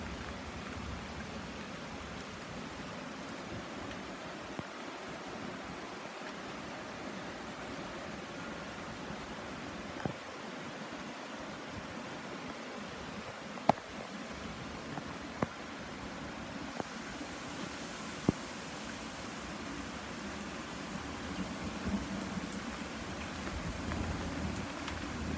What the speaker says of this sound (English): No, it's really raining.